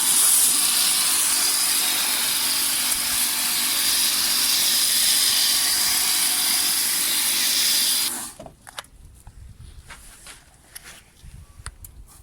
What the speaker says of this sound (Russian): я покажу, что действительно наношу пену через пеногенератор